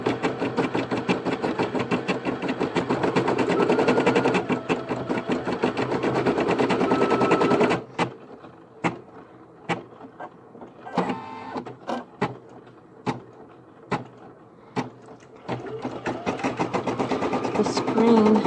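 An embroidery machine stitches a design converted from a photo, a fast loud steady rattle for several seconds that then breaks into sparse tapping clicks before the rapid stitching resumes.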